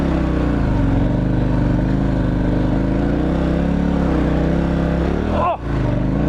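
A dual sport motorcycle on an Avon TrekRider 50/50 tire rides off-road, its engine a loud, steady, close droning hum that holds throughout, with a brief dip in tone near the end.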